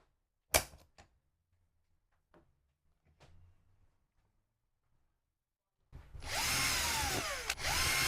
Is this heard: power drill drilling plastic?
yes